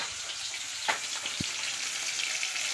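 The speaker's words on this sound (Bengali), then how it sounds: "ওই যে মাছটা ভাজছি," Fish fries in a pan with a steady, moderately quiet sizzling hiss, broken by a couple of sharp pops and crackles, with no voices over it.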